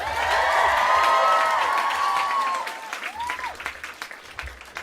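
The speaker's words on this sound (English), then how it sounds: "Give a round of applause to NPR for putting this whole thing on." Small audience at an NPR Tiny Desk concert applauds with a few whoops and cheers on top, loud clapping that tapers after the midpoint into scattered claps.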